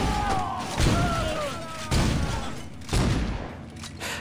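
Gunfire in the video game Saints Row, three heavy evenly spaced blasts about a second apart, each thudding and decaying, with a voice speaking underneath.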